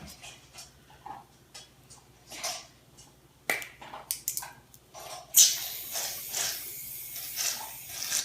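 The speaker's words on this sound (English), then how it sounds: "First you have to shake it." An aerosol can of shaving cream shaken for slime making, its metal ball rattling in quick rhythmic bursts up close, followed by a brief hiss of spray.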